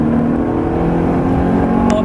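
Car accelerating hard on the Silverstone circuit, a loud, close, continuous engine drone with steady road roar heard from inside the car.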